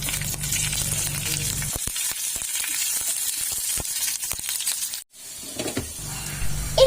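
Two dried red chillies and curry leaves fry in hot oil for an onion chutney, giving a close, loud crackling sizzle, then spaced sharp pops and ticks over a quieter hiss, followed by a brief scrape and stir.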